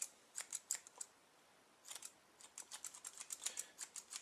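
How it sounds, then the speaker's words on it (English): Scissors snip loose strands on a model tree for a railway layout, a quick run of sharp, crisp cuts followed by a pause and then a longer steady series of close snips, with no talking. "just get my scissors here."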